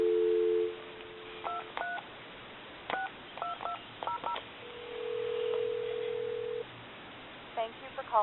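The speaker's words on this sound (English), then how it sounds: "Give you some dial tone here." Wooden hand-painted duck telephone, repaired, gives a steady dial tone followed by bursts of touch-tone dialing beeps in short groups, then a longer tone, clear and alone with no voices.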